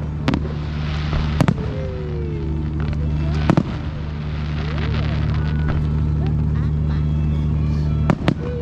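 Fireworks at a Queen's Jubilee celebration in Morecambe go off outdoors in sharp, separate bangs a few seconds apart over a steady low rumble of crowd and generator noise.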